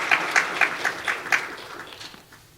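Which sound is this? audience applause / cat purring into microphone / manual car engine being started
audience applause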